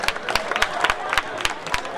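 An audience at a jagran gathering in Silarpur claps to welcome an honoured guest, crisp, irregular hand claps close by, sparse and lively over a brief stretch.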